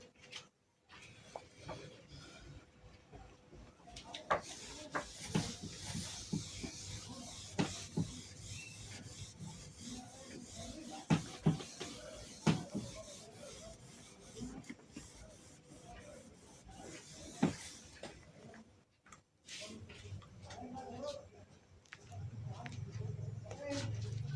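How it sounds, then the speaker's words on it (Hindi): A board is rubbed clean of written physics notes in a classroom setting, giving a long stretch of steady scraping and rubbing strokes with a few sharper knocks, fairly close and moderately loud, and it ends in a quieter pause. "अब मैं इसको रब करने जा रहा हूँ।"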